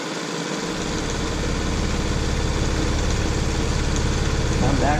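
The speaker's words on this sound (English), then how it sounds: "you're going to sew over it. And I would go back and forth several times." A sewing machine runs steadily and close by, stitching back and forth several times over a stocking's hanging tab, with a continuous motor hum and rhythmic needle chatter.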